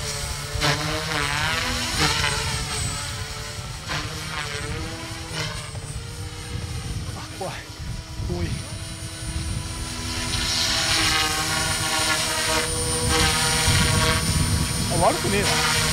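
Small T-REX 300X radio-controlled helicopter flying nearby, its rotor whine steady and loud throughout, rising and shifting in pitch as it maneuvers, with voices talking over it.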